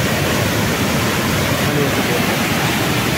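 Waterfall at Dawki in Meghalaya, a steady loud broadband roar of falling water that fills the whole stretch without a break, close and constant.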